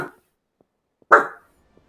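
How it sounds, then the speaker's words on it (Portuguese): A dog barks once inside the video game Final Fantasy XVI, a single short, fairly loud bark following a faint earlier yelp, with near silence around it. "É no jogo que vai latir no cachorro, não é lá fora não."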